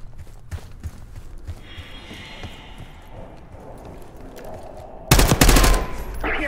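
Gunfire in the video game Call of Duty: Black Ops 6, with scattered distant shots and clatter at first, then a loud close burst of rapid automatic fire near the end.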